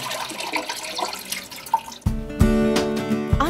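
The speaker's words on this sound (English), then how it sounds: "air travels up the pipe. It makes a funny gurgling noise." A household toilet cistern gurgles after a flush as air travels up the pipe, with a rushing wash of water followed by a louder, tonal burbling that pulses and swells up close.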